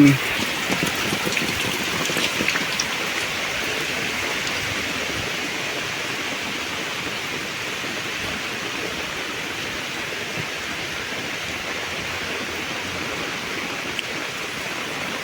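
Rain falling in a village: a steady, dense hiss of rainfall, loud and continuous, with no breaks.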